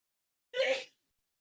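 A single short sneeze bursts out of silence, fairly close and brief, with no talk around it.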